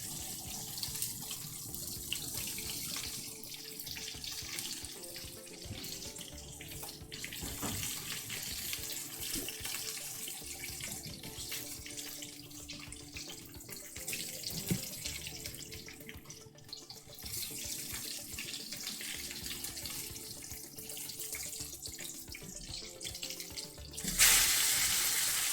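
Hot water pouring steadily from a kitchen tap, a constant hissing, splashing stream that runs on unbroken and close, with a brief sharper splash near the end and no voices.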